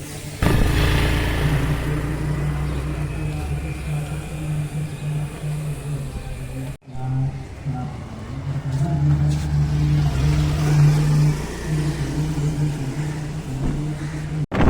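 A vehicle's engine drones continuously while ridden along a road with a passenger sitting behind the driver, steady and fairly loud, with a brief cut midway before the hum resumes.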